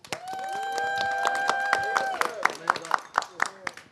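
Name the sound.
audience applause for Zeus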